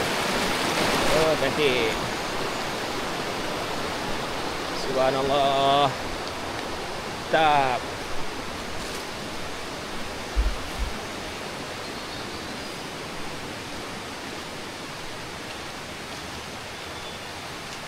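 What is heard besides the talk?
river flowing under a bridge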